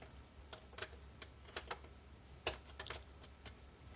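Keys clatter on a computer keyboard attached to a Dell slim client, a run of close, uneven clicks with a few sharper strikes, with no voice.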